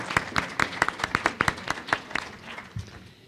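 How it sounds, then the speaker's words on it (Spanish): Scattered clapping from a small audience at a conference session on violence-against-women statistics, with a quick burst of separate claps that thins out and stops within a few seconds. "ah, un aplauso."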